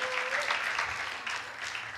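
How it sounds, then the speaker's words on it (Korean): A congregation at a church worship service breaks into a burst of applause, with dense, steady clapping filling the room for the whole stretch and only faint voices underneath. "박수 한번 쳐주세요"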